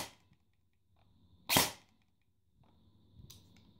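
A single sharp shot from an airsoft replica fitted with a Mosfet, fired in semi-automatic mode: one crisp close crack with a quick decay, surrounded by quiet handling clicks and faint rustle.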